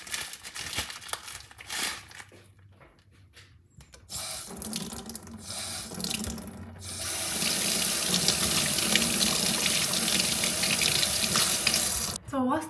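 Tap water running into a kitchen sink while fish is washed, heard close up. A light gush at first with rustling handling, then a louder, steady stream of rushing water for the rest of the clip.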